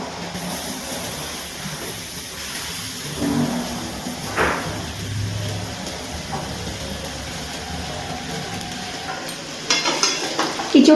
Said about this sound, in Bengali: এবার ভেজে রাখা ইঁচড়গুলো দিয়ে দিচ্ছি এর মধ্যে।